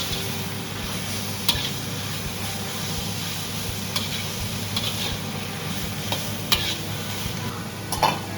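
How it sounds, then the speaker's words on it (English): Marinated meat sizzles steadily in a hot pan while being stir-fried, a constant frying hiss broken by a few sharp scrapes of the utensil against the pan. "Add in the marinated meat stir them until they are half cooked"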